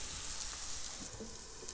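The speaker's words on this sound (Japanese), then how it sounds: "このまま静かに焼いてきますね" Chicken coated in mayonnaise sizzles steadily in a pan over low heat, a constant close hiss with faint crackles and no talking.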